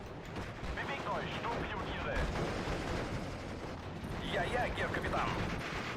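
Lorraine self-propelled artillery firing in the WWII strategy game Steel Division: Normandy 44, Colleville battle: a steady wash of distant gunfire and rumbling bursts, with faint voice chatter surfacing at moments.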